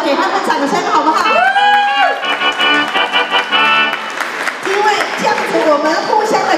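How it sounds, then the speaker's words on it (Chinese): An audience at a church market on a cold day claps and cheers, with a loud, dense burst of applause and shouting blended with amplified speech and music over it. "给他们掌声好不好"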